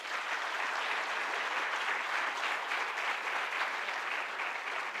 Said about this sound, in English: So big round of applause once again.